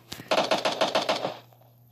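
Rapid automatic gunfire in the battle royale game PUBG, a close, loud burst of about eight evenly spaced shots that quickly dies away.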